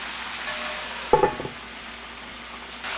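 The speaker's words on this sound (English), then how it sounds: "I start hearing it sizzling up on my stove" A Cornish game hen deep frying on a stove as the oil sizzles over the pot's side: a steady close hiss of hot oil, broken once by a brief clatter of cookware.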